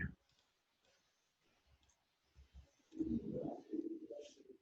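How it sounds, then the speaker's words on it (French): Mouse clicks on a computer during work in a selection tool, a few sharp taps early on, then muffled low thumps and some background noise later, no speech. "Je clique à l'intersection et puis je vais là."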